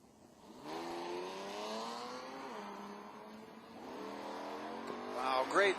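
Drag race launch of a six-cylinder 1969 Camaro and a Monte Carlo on an IHRA strip, heard as a distant rising engine roar that climbs through the gears over several seconds before a louder burst at the end.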